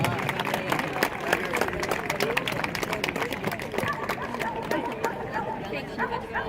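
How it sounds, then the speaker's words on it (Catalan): Outdoor crowd applause after a Catalan sheepdog herding demonstration at a market fair, dense clapping sustained and fairly loud, mixed with crowd chatter and voices. "Molt bé, un aplaudiment."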